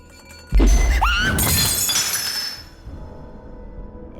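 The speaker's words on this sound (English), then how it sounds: "It just smashed everywhere." A wine glass falls from a shelf and shatters with a sharp crash, then bright shards tinkle and scatter for a second or two before settling into quiet room noise.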